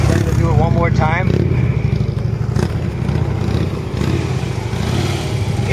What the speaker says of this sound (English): The bike turns in less than 18 feet.